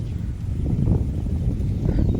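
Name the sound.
wind blowing through a garden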